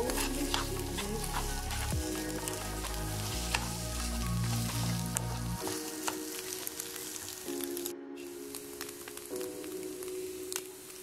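Scrambled eggs with cheese sizzle and crackle steadily in a frying pan as they are stirred, a close, continuous hiss with soft scraping, while faint tonal background sounds run underneath.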